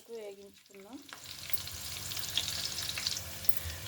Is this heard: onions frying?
yes